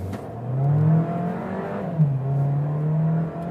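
A Volkswagen Taos SUV engine revs up and accelerates, its steady drone rising in pitch, dipping briefly at a gear change, then climbing again.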